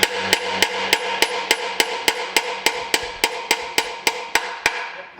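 Rubber mallet strikes land in a steady, even rhythm, about fifteen dull thuds in quick succession, close and clear with no talking.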